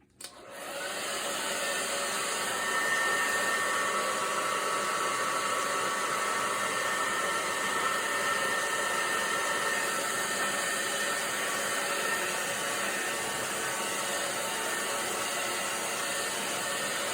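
A hair dryer blows steadily on a watercolor painting, a loud continuous whoosh starting abruptly and holding an even roar throughout with a faint whine, no voices.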